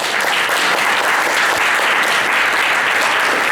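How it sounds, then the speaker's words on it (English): Dense, steady applause from a church audience fills the whole stretch, loud and continuous with no gaps and no talking over it. "Let's applaud once again our two speakers."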